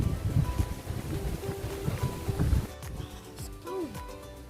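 Blustery wind buffets the microphone at the red sandstone ruins of Kenilworth Castle on a cold August day, strong low rumbling gusts that ease off partway, with a voice briefly audible.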